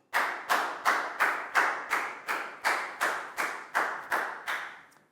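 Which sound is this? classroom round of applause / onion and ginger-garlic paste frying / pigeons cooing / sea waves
classroom round of applause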